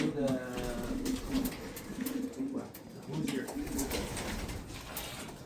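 Racing pigeons in a champion loft coo in soft repeated low phrases at close range, with rustling and faint background noise between calls.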